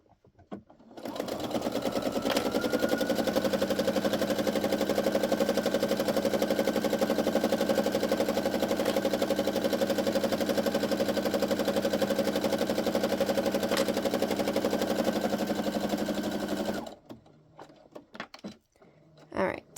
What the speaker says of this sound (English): I'm just going to sew straight across this. So I'm just going to sew my little seam here and get it going.